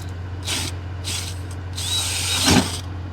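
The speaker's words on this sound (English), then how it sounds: "let's drill a power hole" A power drill bores a hole during a raceway sign installation, with short bursts of whirring, then a longer run ending in a grinding, crunching bite as the bit cuts through, close and loud over a steady hum.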